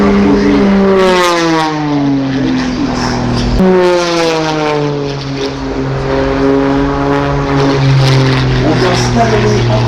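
A propeller race airplane at the Villeneuve-sur-Lot air show, loud and close, its engine droning with strong harmonics that drop as it passes, then rise again as it accelerates hard. Voices can be heard over it.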